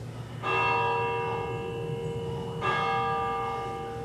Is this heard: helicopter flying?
no